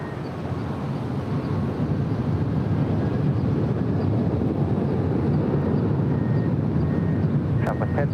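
A jet airliner rolls for takeoff on runway 24 left at LAX, a steady loud broadband roar holding throughout, with a faint tone near the end.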